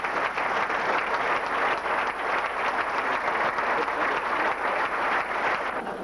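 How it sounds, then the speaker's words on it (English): Banquet audience at the 1988 Kansas Jayhawks basketball awards applauding the team managers, steady sustained clapping from a roomful of people, moderately loud and unbroken. "Everybody applaud for them."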